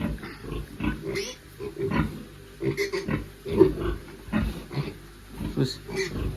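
Low, rough grunts from a piglet with a hernia repeat in short bursts, close by, while a person talks over them.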